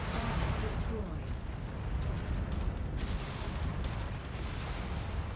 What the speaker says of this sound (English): Incoming missile. Target destroyed.